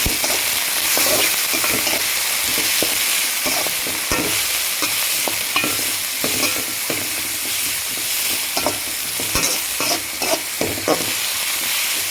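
Coriander, onion and cabbage sautéed with egg in a pan: a continuous hissing sizzle broken by frequent scraping and tapping of a spatula, close and busy throughout with no voices.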